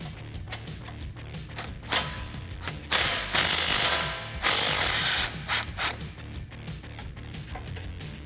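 A ratchet works on the sway bar end link bolt and nut of a Jeep Wrangler JK, with loud clicking bursts in uneven runs and pauses between strokes, close up.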